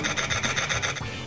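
A Commodore 64 C2N Datasette tape drive makes a loud, rhythmic grinding rasp, pulsing about eight times a second for a second before it stops, heard alone.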